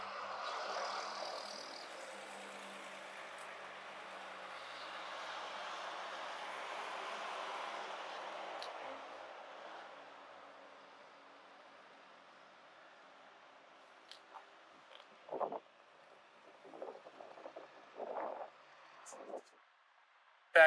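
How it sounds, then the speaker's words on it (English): A Suzuki DRZ motorcycle rides into town, its engine a muffled, steady drone that holds for several seconds and then fades into the distance. Near-silence follows, broken by a few brief, faint bursts that may be voices. "Just gonna make a quick trip into town on the DRZ here."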